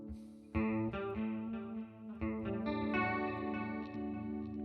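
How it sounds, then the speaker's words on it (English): Ibanez electric guitar played through an iRig HD2 interface into Mooer GE Labs effects, with sustained chords ringing out thick with chorus and light distortion and struck again partway through, the tone shimmering and wide, with no talking. "I got my Ibanez plugged into the iRig 2, iRig HD2, like I showed you guys earlier"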